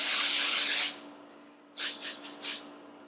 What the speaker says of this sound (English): take that texture spray and just give my whole head a spritz